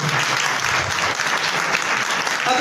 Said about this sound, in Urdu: لوگوں نے بہت تالیاں بجائی۔